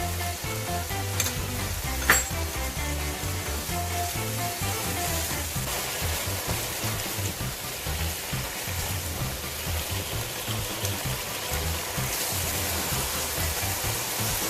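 Chicken veggie pasta with soy sauce cooking in a pan, a dense, constant sizzle and frying hiss with faint stirring, close and steady throughout, with one brief clink near the start.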